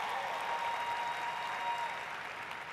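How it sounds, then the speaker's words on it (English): Steady audience applause at a boxing training event fills the space throughout, a dense continuous patter of many hands clapping with a faint cheer under it, holding level to the end. "Everybody give her a round of applause"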